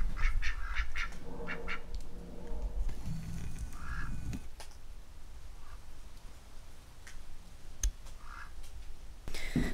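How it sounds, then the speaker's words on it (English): Ducks quack outdoors in the early morning, a run of loud, close nasal calls at the start, followed by scattered quieter quacks and clicks over a low background hum. "So Lucy and Ethel, our new ducks, are out and about early in the morning, which is unusual."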